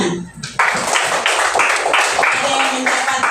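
A class of children clap their hands together in a quick, lively burst of rapid claps, close and fairly loud, with a voice speaking briefly at the start.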